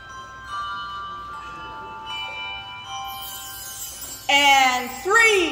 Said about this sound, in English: Estero Community Church Handbell Choir. Ding dong, merrily on high.